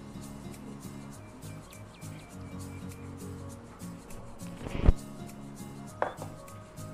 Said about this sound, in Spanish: un par de salchichas que vamos a cortar al centro